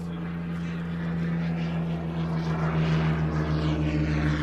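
A Handley Page Victor aircraft doing a flypast over an airfield, heard as a steady droning jet roar that swells slightly louder across the stretch, fairly distant and continuous, with no talk.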